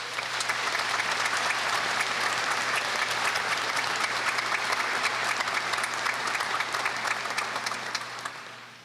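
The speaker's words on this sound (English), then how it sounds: "Audience, let's give these student supporters a round of applause." An audience at the Salina Area Technical College 2015 graduation ceremony applauds in a large hall, sustained dense clapping swelling in then tapering off near the end, with a faint steady hum beneath.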